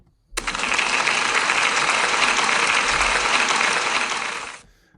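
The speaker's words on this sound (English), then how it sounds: "can we give Gabriel a big round of applause, please?" A school celebration assembly bursts into a big round of applause for a pupil, starting abruptly and holding as a dense, loud wash of many clapping hands before cutting off near the end.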